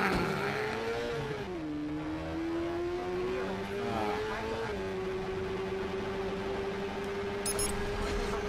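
A car engine in the Watch Dogs video game revs and holds a loud steady drone, rising and dipping in pitch over a dense game soundscape, with no pauses throughout.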